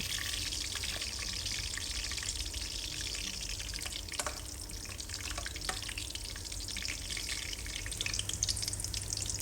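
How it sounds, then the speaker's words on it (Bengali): Chopped onions fry in hot oil for a duck curry, a steady close crackling sizzle with occasional stirring clicks running throughout, no talking. "অ্যাড করে দিলাম এখানে পেঁয়াজ কুচিগুলো। এটাকে ব্রাউন করে খুব ভালো করে ভেজে নেবেন"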